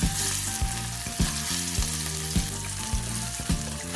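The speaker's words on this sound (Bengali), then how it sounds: "গরম তেলে একে একে মাছগুলো দিয়ে দিচ্ছি।" Hilsa fish pieces fry in hot oil in a kadai, giving a steady loud sizzle with recurring sharp crackles and pops from the spitting oil.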